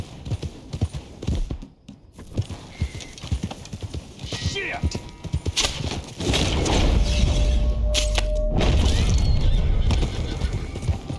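Horse hooves clip-clop in Red Dead Redemption 2, a brisk, uneven clatter of hoofbeats near and clear, followed by a louder rumbling stretch with a whinny, while a player talks over the top.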